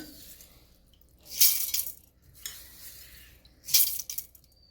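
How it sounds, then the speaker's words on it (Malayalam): Washed horse gram poured into a pressure cooker makes two bright, rushing pours of hard grains rattling against metal, close and moderately loud, with quieter scattered clinks between them and no talking. "ഞാനിവിടെ മുതിര കഴുകിയെടുത്ത് വന്നിട്ടുണ്ട് ഇതിന് ഞാൻ കുക്കറിലേക്ക് ചേർത്ത് കൊടുക്കുകയാണ്"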